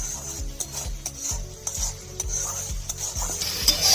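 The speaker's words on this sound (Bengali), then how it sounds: "মশলা ভালো করে কষিয়ে নিয়েছি" A spice masala being stirred and fried in a pan for a Bengali egg kosha, with steady sizzling under repeated scraping strokes of a spoon against the pan, close and alone.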